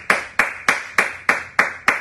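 An audience claps in unison for trainer Alok, seven sharp, evenly spaced claps close by, with no talking.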